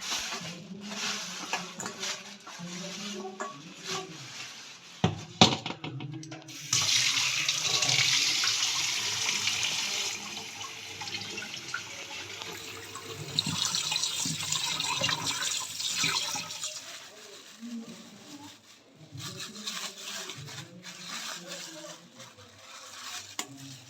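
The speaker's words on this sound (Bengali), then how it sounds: "এখন মাছগুলোকে ধুয়ে নিই ধুয়ে নিয়ে আসছি তোমাদের সামনে" Fish are washed under a running kitchen tap, with a steady, close rush of water that swells and splashes as the fish are rinsed and handled in the stream.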